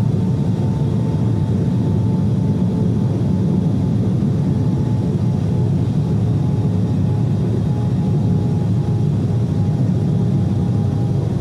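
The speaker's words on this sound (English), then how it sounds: "Some dynamic braking." Re 421 electric locomotive in Train Simulator under dynamic braking, a steady loud low roar and hum with a faint high whine, continuous and unchanging throughout with no talk.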